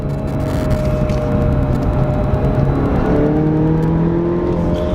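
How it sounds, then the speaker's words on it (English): A 2017 Chevrolet Camaro with a 2.0L turbo engine pulls along a back road, heard from inside as a loud steady engine drone whose pitch climbs under acceleration, with road and tire rumble beneath. "So now we're gonna go ahead and do some back road driving."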